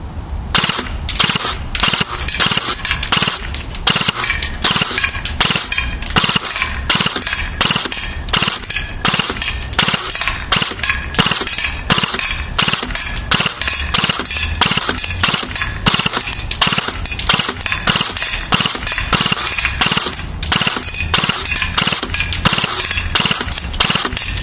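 A JG airsoft gun runs on full auto with an 11.1v li-poly battery, firing loud, close, rapid bursts of snapping shots with brief pauses between them, with no talking.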